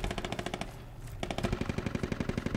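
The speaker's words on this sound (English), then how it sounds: "Looks like there might be some type of machine gun direct north of us." Machine gun fire in the military shooter game Squad, a steady rapid stream of sharp shots in quick rhythm, briefly pausing near the middle before resuming, moderately loud with no talk over it.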